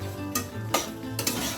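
Boiled soybeans being stirred into spices and sour yogurt in a pan, three distinct spoon scrapes against the metal over a soft simmering sizzle, close and quiet with no voices.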